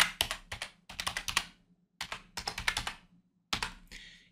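Bursts of computer keyboard typing as a password is entered, quick clusters of keystrokes separated by short pauses, close and clear with no talk.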